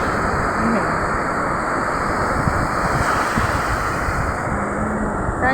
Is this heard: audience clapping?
no